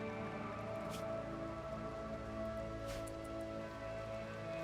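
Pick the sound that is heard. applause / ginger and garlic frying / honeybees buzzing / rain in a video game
rain in a video game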